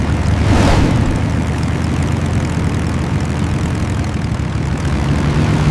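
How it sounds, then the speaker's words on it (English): Piston-engined aircraft drone loudly and continuously, a dense low propeller roar with a brief swelling pass early on, fitting a formation of WWII Messerschmitt Bf-109 fighters in flight. "Hundreds of Messerschmitt Bf-109 fighters dominate the skies over France and the Channel."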